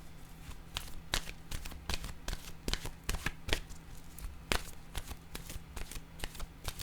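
Tarot cards being shuffled and drawn, with crisp riffling and snapping card sounds in quick irregular bursts over a low steady hum, close and clear, no talk.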